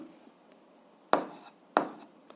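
Pen strokes writing by hand on paper while working a physics problem, two short scratchy bursts in a quiet room with no talking.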